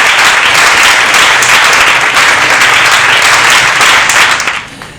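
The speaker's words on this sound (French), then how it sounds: "demandons d'ailleurs au public de pouvoir applaudir." A live audience at a comedy and arts event in Lubumbashi bursts into loud, dense clapping that holds strong for several seconds, then tapers off quickly at the end.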